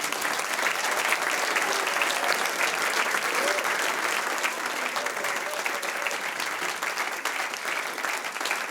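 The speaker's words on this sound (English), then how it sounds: "And give them an applause." A crowd applauds steadily at a Christian Artists Seminar evening gathering, dense sustained clapping from many hands filling the hall throughout, with faint voices mixed underneath.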